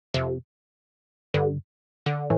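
Three short dub chord stabs from a Serum synth patch with raised filter resonance, slight drive and fattening, each a bright harmonic-rich burst; two stand alone with gaps, the last pair close together.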